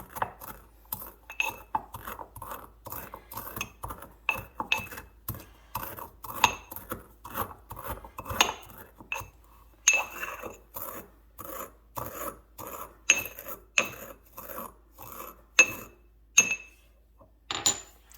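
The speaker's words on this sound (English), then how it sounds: "I have a mortar and pestle, so let's add a little in and see if we can chop this down more" Repeated gritty grinding and crunching of eggshells in a mortar, scraping strokes with sharp clicks, close and steady, no voices.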